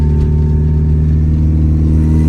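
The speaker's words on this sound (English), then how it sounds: "There's a car on its way though, so we're trying to wait for them to pass by" A car engine hums steadily close by, a low droning motor with no clear rise or fade, no voices over it, as a car passes on a street.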